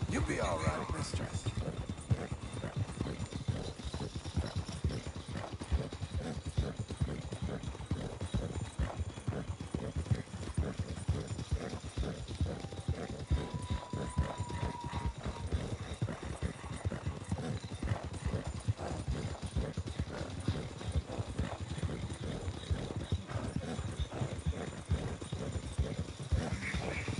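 A horse's hooves clip-clop in a steady, continuous rhythm close by throughout, with faint voices in the background.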